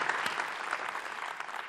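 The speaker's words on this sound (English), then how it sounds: "Give her a clap." An audience applauds after a talk on building a startup ecosystem, a dense, steady wash of many hands clapping at once that holds its level from start to finish.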